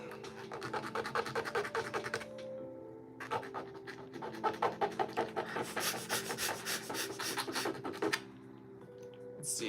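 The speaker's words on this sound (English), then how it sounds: "we need to sand this down. That is what we need to do. Oh, nail file." Nail file rasping against a small plastic Lego minifigure piece, close up in repeated scratchy strokes that pause briefly and then resume, with a steady tonal hum underneath.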